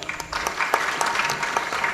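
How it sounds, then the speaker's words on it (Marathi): A kirtan audience claps together in a dense, steady burst of applause lasting the whole moment, close and lively with no voices over it. "टाळी वाजवा."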